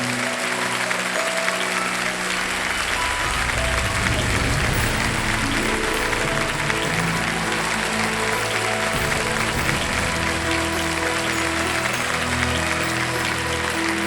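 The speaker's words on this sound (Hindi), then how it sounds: "एक बार फिर जोरदार तालियां" Sustained loud applause from a studio audience on the Kaun Banega Crorepati game show set, a steady dense wash of clapping lasting the whole stretch with no speech over it.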